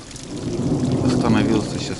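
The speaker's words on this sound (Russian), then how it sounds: "Капитально гремит." Thunder rolls through a night thunderstorm over a forest hut by a fishing spot, a deep rumble swelling and fading beneath steady rain, with a voice briefly audible.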